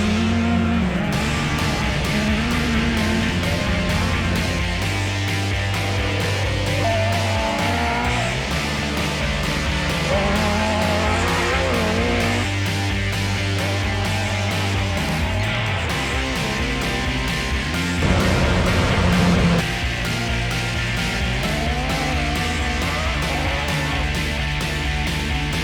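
Geely RX3 cars driven hard during field testing, engine noise loud and continuous throughout, with rising and falling revs and a brief louder burst near the end, no talk.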